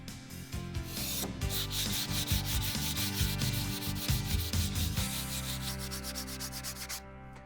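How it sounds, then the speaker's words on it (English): Steady hand sanding on wood, a continuous gritty rubbing with rhythmic back-and-forth strokes, close and fairly loud, then easing slightly before stopping. "Then I can finish up with just some scraping and some sanding."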